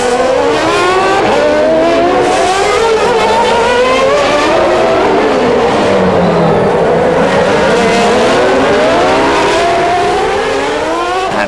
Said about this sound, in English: Schumacher outdrags the Jordan and takes the lead around the outside.